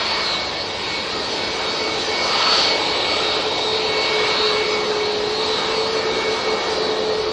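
A TUI Boeing 737 jet departs Manchester bound for Corfu, its engines a loud, continuous roar with a high steady whine, swelling slightly midway and staying strong without any talk.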